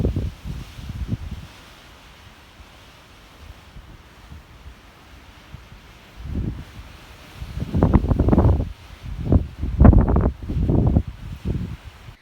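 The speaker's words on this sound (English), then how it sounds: "it literally sounds like a wind tunnel just coming down this little valley" Wind rushes down a small mountain valley in the Goat Rocks, quiet at first, then surging in several loud gusts that roar and fade.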